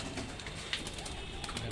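Punjabi pigeons at a loft in Indore give soft, low cooing, faint and close together in a brief burst.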